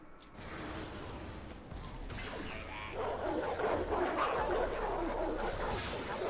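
Dogs in the video game Oddworld Soulstorm bark and yip amid mechanical clanking game noise, the barks fairly close and repeated, building in intensity toward the end of the stretch.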